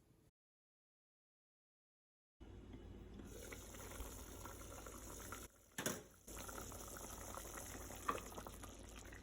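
Pasta water boils in a covered pot, giving a steady, close bubbling rush that starts abruptly after a couple of seconds of silence and carries on with a brief surge midway.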